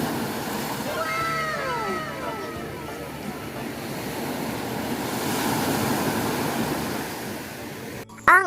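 Ocean surf rolls onto Onay Beach in Laoang, Northern Samar, a continuous broad wash of waves with wind noise. A brief animal-like cry rises over it early on, and a sharp handling bump closes the clip.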